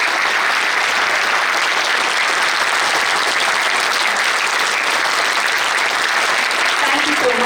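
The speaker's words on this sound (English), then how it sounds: "let's all start this very event of today with a loud round of applause for all the guests who come" A loud, dense round of applause from the audience welcomes the guests at an innovation marathon event, steady and unbroken from start to finish with a faint murmur of voices underneath.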